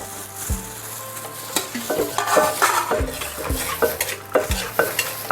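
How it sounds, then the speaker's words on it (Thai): A spoon or utensil stirring and tossing an Isan rice noodle salad with fermented fish sauce, vegetables and fried mackerel in a bowl, giving close, clattering scrapes and wet squelches in an irregular rhythm. "คนครับบัดทีนี้เข้ากันพี่น้อง"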